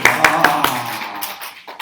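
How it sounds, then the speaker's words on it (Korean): A few sharp hand claps ring out close by in an evenly spaced burst during a church gathering, then fade into a quieter room murmur. "박수"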